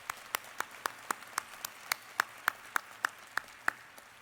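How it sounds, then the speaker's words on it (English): Sparse, evenly spaced hand claps ring out at a university commencement ceremony, a thin, rhythmic clapping of a small number of people heard fairly near. "Please join me in giving our Chief Marshals a round of applause."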